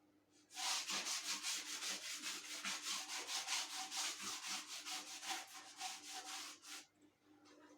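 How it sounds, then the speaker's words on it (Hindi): A board is wiped clean of writing with quick back-and-forth strokes, a close rhythmic rubbing that lasts about six seconds, alone with no talk. "अब मैं इसको रब करूंगा और दूसरा सेंटेंस लिखूंगा।"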